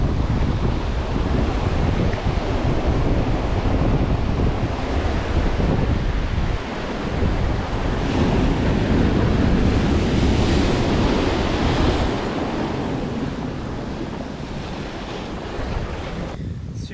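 Ocean waves surge and break on a sandy beach during shore fishing for sea bass, a continuous loud roar of surf mixed with heavy wind buffeting the microphone, steady throughout with a slight easing toward the end.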